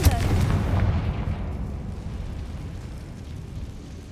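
A Confringo explosion spell in the video game Hogwarts Legacy: a loud fiery blast at the start that rumbles and decays into a long fading roar, with faint game noise underneath.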